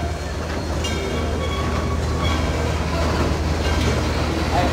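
A train rolls steadily past a trackside crowd of rail fans, a continuous close rumble with faint rhythmic wheel clatter and no talk.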